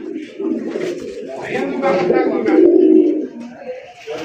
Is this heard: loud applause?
no